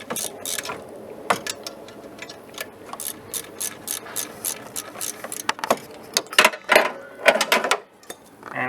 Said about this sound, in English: there goes my ratchet